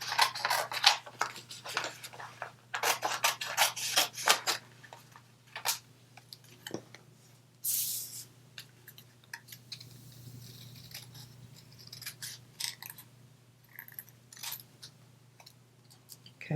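Scissors snip around the outline of a paper card piece for a handmade thank-you flower card, with a close, quiet run of short crisp cuts and rustling paper, broken by pauses.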